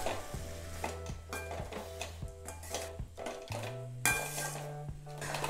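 Mint leaves are sautéed in a pan for a mint and coriander chutney, a quiet kitchen scene of regular soft metallic scraping and stirring taps over a faint sizzle.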